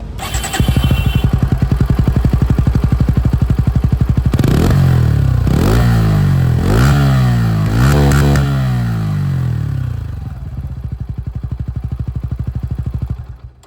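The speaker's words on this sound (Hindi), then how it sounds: "चलिए इसकी जो एग्जॉस्ट साउंड है वो भी मैं आप लोगों को सुना देता हूं" A 2026 Bajaj Pulsar N160 4V with an underbelly exhaust idles with a steady thump, then is blipped through several sharp revs that rise and fall before settling back to a loud, close idle.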